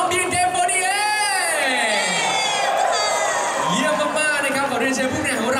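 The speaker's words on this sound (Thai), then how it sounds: "ขอเสียงปรบมือให้กับพรีเซนเตอร์ของเราทั้ง6ครับ" A crowd cheers loudly for six BNK48 presenters at a Tao Kae Noi event, with high-pitched shouts and whoops rising and falling continuously throughout, and a voice carrying over the din.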